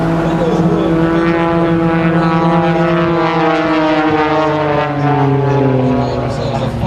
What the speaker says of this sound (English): Roll the airplane at vertical climb.